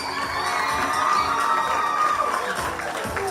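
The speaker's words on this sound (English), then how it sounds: "We're just applauding them, eh?" A school sports awards ceremony audience cheers and shouts loudly, with children's voices whooping and a steady crowd roar throughout.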